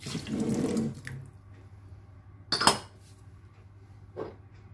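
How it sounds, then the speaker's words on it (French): Orange blossom water poured into Moroccan brioche dough in a bowl, a brief splashing pour, then a sharp clink of a container and a softer knock, all close in a quiet kitchen. "L'eau de fleur d'oranger."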